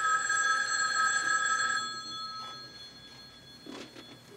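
A telephone bell rings loudly with a sustained, bright ring for nearly two seconds, then falls silent; afterward only faint room noise and a brief soft rustle remain. The scene is from the 1991 film Bump in the Night.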